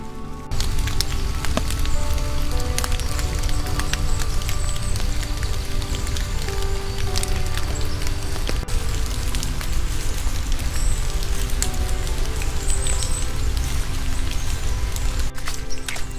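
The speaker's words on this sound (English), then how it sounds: "It's still raining." Rain falling at Trexler Nature Preserve, a dense continuous patter of drops close by, steady and fairly loud throughout with occasional sharper ticks.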